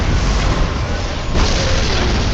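An Eldar prism cannon fires in Warhammer 40K Dawn of War Dark Crusade, a loud, dense roaring blast that shifts partway through, with battle noise over it.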